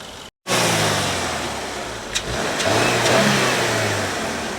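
Japan-built boxer engine of a limited-edition car runs with the bonnet open, starting after a short silence, then holding a steady, close, low hum with a brief rev swell partway through.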